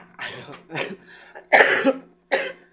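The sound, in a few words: coughing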